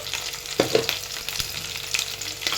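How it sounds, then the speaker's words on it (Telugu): Onions and chopped green chillies fry in a pan with a steady soft sizzle, punctuated by a few stirring scrapes and clinks, close and fairly quiet with no talking. "ఉల్లిపాయ వేగింది కదా వేగిన తర్వాత తరిగిన పచ్చిమిర్చి వేసేస్తున్నాను"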